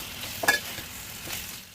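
Tomatoes with turmeric, salt, ginger-garlic paste and curry leaves fry in a pan for capsicum curry while being stirred, giving a soft steady sizzle broken by one brief scraping stir near the start.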